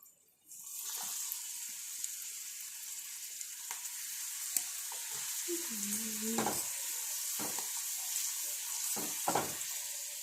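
Papadam frying in hot oil, with a steady broadband sizzle running throughout and several sharper crackling bursts as pieces hit the oil, close and alone with no talk.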